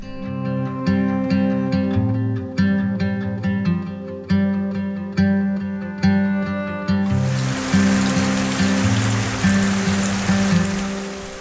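Summer rain during a rainy spell comes in partway through as a steady broadband hiss, layered over continuous plucked, chord-based music that fills the first part alone.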